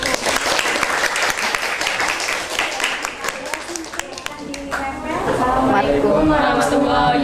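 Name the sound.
applause for a classroom group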